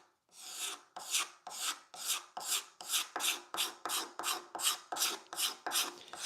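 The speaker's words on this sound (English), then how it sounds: "this card scraper makes really fast, quick work of getting rid of the scratching or the scratch pattern from the rasp" Card scraper pulled across wood to clear rasp marks while shaping a leg: a steady series of about fourteen rhythmic, dry scraping strokes, close and moderately quiet, with no talk.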